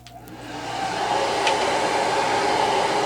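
A hair dryer runs close by, drying paint on a craft project, its steady whooshing hum ramping up over the first second and then holding loud and even, with no talking.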